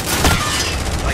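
Grenade explosion in Call of Duty Warzone, a loud dense booming blast with rumbling debris filling the moment, close and continuous, with a player talking over it.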